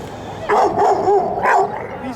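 A dog barks three or four times in quick succession, close and loud, with short yipping barks.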